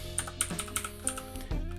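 Fingers typing a web address on a computer keyboard, a short close run of quiet uneven key clicks with no talking.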